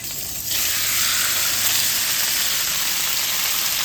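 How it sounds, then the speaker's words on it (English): Chicken dropped into hot oil in a pan for kung pao chicken gives a sudden, loud, steady sizzle after a half-second pause, frying on without letup and with no talking. "I'm going to get that oil. As you can see, it's nice and hot now. And we're going to dump that chicken in."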